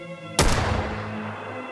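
A 6-shot revolver rifle firing in Fallout 4, one sudden loud shot that cracks out over a steady electronic hum and then decays into a long, booming, reverberant tail.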